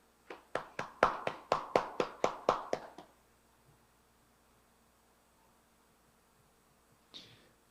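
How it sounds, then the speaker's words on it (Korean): A small group of hands claps about a dozen times in a quick, even rhythm for roughly three seconds, then stops, leaving a quiet room with faint background hiss and one brief later tap. "참 부모님 양이분께 감사의 박수를 올려주시면 감사하겠습니다"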